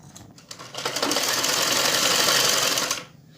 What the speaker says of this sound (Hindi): अब हम इनको सिलाई करते हैं।